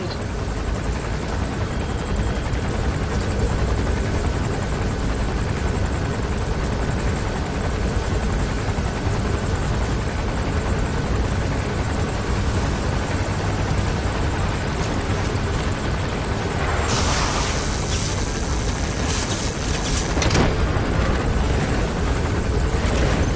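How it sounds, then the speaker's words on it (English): A support helicopter arrives in the video game Metal Gear Solid V: The Phantom Pain, its loud, steady rotor roar filling the scene continuously, with brief radio-style chatter bursts near the end. "Support helicopter requested."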